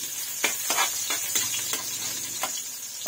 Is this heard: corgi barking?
no